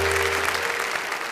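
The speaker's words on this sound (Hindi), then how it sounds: "भाई जोरदार तालियों से स्वागत करें" Brief burst of dense audience applause at a televised comedy show, loud and even for the whole moment with a low hum underneath.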